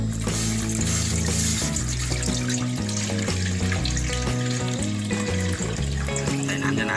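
Yanang leaf juice poured into a pot for bamboo shoot curry with straw mushrooms, a loud, continuous splashing pour with burbling liquid and background music underneath.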